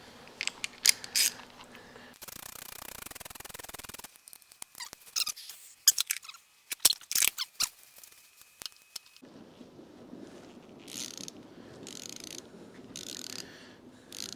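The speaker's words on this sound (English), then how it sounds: "I'm going to take the ratchet and just kind of snug them down" A ratchet snugs down bolts on an engine head, heard as scattered clicking and mechanical ratcheting strokes, sometimes quiet and sometimes sharp, with a hum of background noise joining in later.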